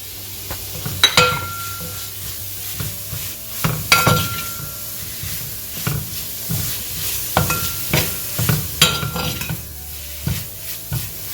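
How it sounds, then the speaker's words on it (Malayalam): Curry leaves, garlic and green chillies frying in oil in a pan for Kerala Payyoli chicken fry: a soft steady sizzle broken by repeated scrapes and clinks of a spatula stirring against the metal. "ഇതിനൊപ്പം തന്നെ വേപ്പില, വെളുത്തുള്ളി, പച്ചമുളക് ഇതും കൂടി ചേർത്തിട്ട് വേണം ഫ്രൈ ചെയ്യാനായിട്ട്"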